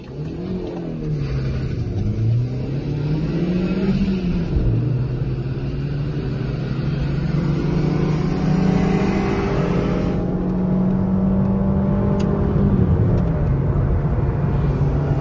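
A Ford Figo 1.2 and a Santro Xing 1.1 rev hard in a drag race, engine notes climbing and dropping with gear changes before settling into a sustained, loud, close drone.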